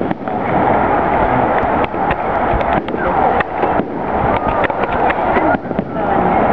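Dense crackling and popping of Victoria Day fireworks fill the air continuously, with sharp bursts punctuating a steady roar; voices murmur faintly underneath.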